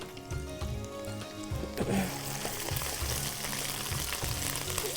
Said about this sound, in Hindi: इसको हम अच्छे से ज़रा स्टर फ्राई कर लेते हैं।